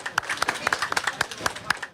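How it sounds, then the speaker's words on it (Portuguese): Onlookers clap for firefighters after the rescue of a painter who fainted inside a water tank, a light scattered patter of hands at moderate distance, fairly faint. "as pessoas que acompanharam o resgate chegaram a aplaudir o trabalho dos bombeiros"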